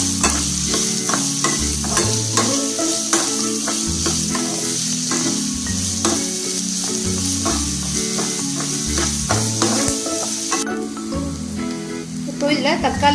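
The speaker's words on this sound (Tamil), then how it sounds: "வெங்காயம் சேர்த்து ஒரு 2 ல இருந்து 3 நிமிஷம் வதக்கிக்கலாம்." Onions sauté in a pan for paneer keema dosa filling, a loud continuous sizzle with rapid rhythmic scraping of a spoon stirring throughout, close up, while a low tone pulses underneath and nobody speaks.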